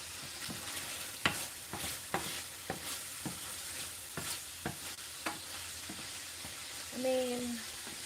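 Minced meat frying in a pan, stirred with a series of short scraping strokes over a soft steady sizzle, close and fairly quiet.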